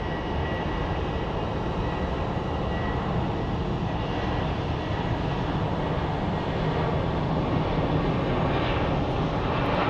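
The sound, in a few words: airplane departing Phoenix Sky Harbor airport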